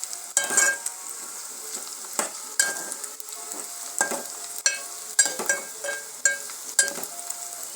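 Onions fry with whole spices, bay leaf, cinnamon, cloves and cardamom, for mutton curry: a soft sizzle broken by regular sharp scrapes and clinks of a spatula stirring against the pan, close and without talk.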